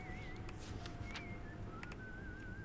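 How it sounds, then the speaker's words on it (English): A person whistles a wavering tune in the background, faint and intermittent, over a steady low hum with a few soft clicks. "Here's somebody whistling in the background."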